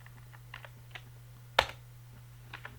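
Computer keyboard keys tap in a sparse, uneven rhythm, with one louder, sharper keystroke for Enter in the middle; close and fairly quiet with a steady low hum beneath.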